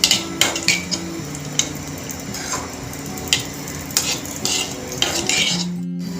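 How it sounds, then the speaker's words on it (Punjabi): Dry fruits fry in ghee in a pan for suji laddu, a light sizzle under frequent metal spoon clinks and scrapes against the pan, close and busy, no talking. "ਇਹਨੂੰ ਆਪਾਂ ਥੋੜਾ ਜਿਹਾ ਹੁਣ ਫਰਾਈ ਕਰ ਲਾਂਗੇ"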